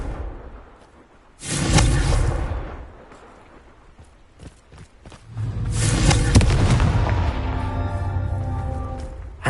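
Confringo fire-blast spell exploding in the video game Hogwarts Legacy, two loud fiery bursts, the first short and the second longer, trailing into crackling debris and a ringing tonal tail.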